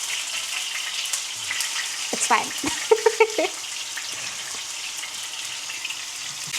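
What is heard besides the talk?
potatoes and chips frying and boiling in a pot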